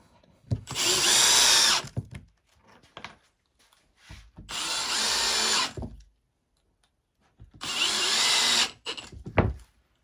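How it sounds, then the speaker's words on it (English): Three loud, close bursts of a power drill driving screws into a recycled poly ski and board rack, each lasting over a second, separated by brief quiet gaps with small knocks. "I'm just leaning on my drill."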